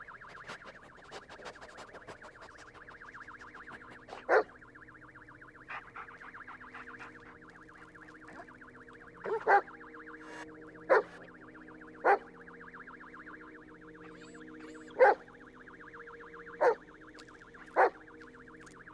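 A dog in the Blair Witch horror video game barks in short, sharp, evenly spaced yelps over a quiet, tonal electronic background, each bark distinct and somewhat distant.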